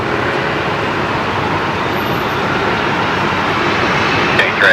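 A Dash 8 turboprop departs Brisbane Airport at night, giving a steady broadband engine roar at moderate distance that holds evenly throughout, with no voices.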